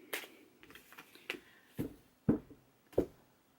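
Tarot card decks being shuffled, giving a handful of sharp, separate riffling slaps spaced roughly half a second apart, close by and fairly quiet with no talking.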